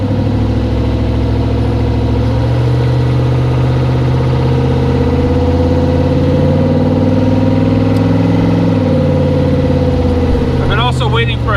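A car engine idles steadily in cold weather, warming up with a low, even hum and a few faint shifts in tone, close and continuous; a voice chirps briefly near the end.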